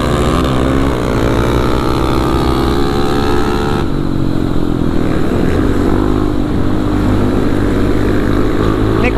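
A Kawasaki KLX 450 supermoto motorcycle engine roars steadily up close while riding, loud and continuous, with the pitch shifting as the throttle changes.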